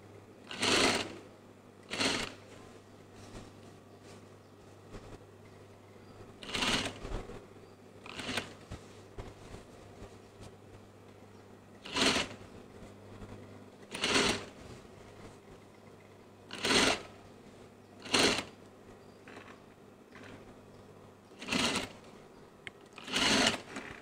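Sewing machine stitching a quarter-inch seam on children's clothing, running in about ten short separate bursts spread evenly through the stretch, each a loud whirring run with quiet pauses between.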